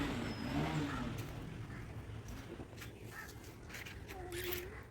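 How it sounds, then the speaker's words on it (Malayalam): A motorbike carries a rider and a small child along a road, its engine droning steadily underneath wind rush, with a voice talking over it and a crow cawing in the distance. "അങ്ങനെ ദേ ഞങ്ങൾ ബൈക്കിൽ പോയിക്കൊണ്ടിരിക്കുകയാണ്"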